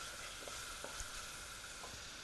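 Black pepper and other spices sizzle steadily in hot fat as they are stirred in a pan for chicken liver with potatoes, a continuous faint crackle with light scraping taps.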